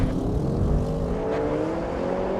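Several high-performance sedans, an Audi RS6, BMW M5 and Mercedes-AMG E63, launch hard in a drag race, a loud sustained engine roar with rising gear tones building steadily and close by, no talk.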